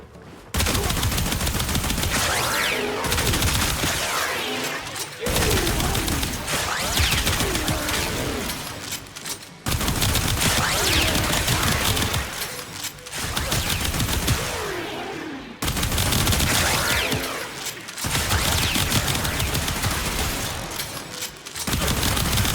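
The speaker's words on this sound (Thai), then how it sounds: "ทดสอบประสิทธิภาพของปืนเฮสติกส์พรามในบิวดังกล่าว กับศัตรูทั้ง 3 เผ่า" Rapid bursts of Hystrix Prime pistol fire in Warframe, loud and continuous, broken into several long volleys with brief pauses between them, with impact and combat effects layered over the shots.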